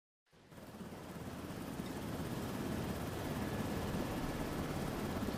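Steady broadband rotor and engine roar of a helicopter flying through a storm toward a cargo vessel in the video game Lazaret, fading in quickly and holding at a constant moderate level.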